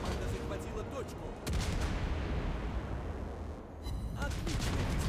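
Heavy booming naval gun blasts go off in a sequence, each with a rumbling tail, over a constant low roar of engine noise, in the game World of Warships Blitz aboard the Prince Rupprecht.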